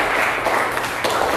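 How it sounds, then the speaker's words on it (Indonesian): Audience applause for a school class, a dense wash of hand claps from a crowd that holds steady for over a second with a slight swell near the end. "Beri tepuk tangan untuk kelas 1."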